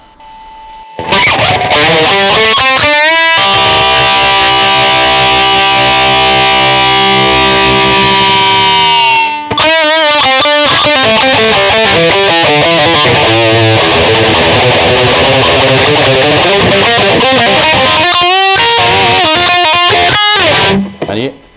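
Loud electric guitar through a Tube Screamer overdrive plays a run of notes, then a long sustained chord and more picked phrases, with a brief pause in between.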